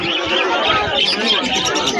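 Doves coo amid a busy outdoor bird market, their soft calls mixed into close chatter and crowd babble, with voices talking over the birds throughout.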